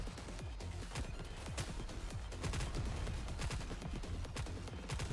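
Rapid bursts of video game gunfire from Nikke rattle on continuously, dense overlapping shots with a steady loud level and no pauses.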